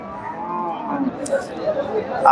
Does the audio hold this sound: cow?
yes